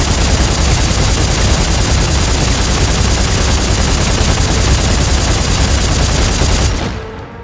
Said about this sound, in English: But here's the chain gun.